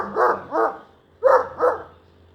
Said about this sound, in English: she's big a big Newfoundland dog.